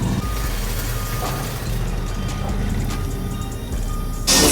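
A vehicle reversing into a parking spot, its beeps repeating at a steady pace over a loud, rumbling engine and road noise, the sound jumping louder near the end.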